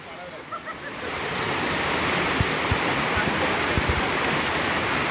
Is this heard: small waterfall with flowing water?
yes